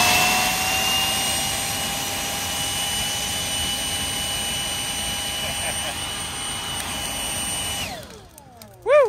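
A diesel-burning heater runs outdoors in falling snow, giving a loud, steady roar with a high whine. Near the end the roar drops away and a short rising whistle follows.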